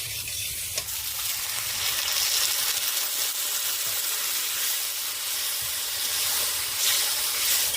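Water goes into a pan of frying pomfret fish, raising a dense, continuous hiss of sizzling and steam. It stays fairly even and close throughout, with no speech.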